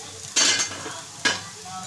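Corn appe frying in a cast appe pan, giving two short bursts of sizzling and scraping with a quiet kitchen hush between them.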